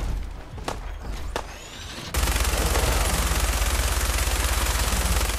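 Enemy gunfire in the video game Fallout 4: a couple of sharp single shots and thuds, then a sudden loud, rapid stream of automatic fire that keeps hammering to the end.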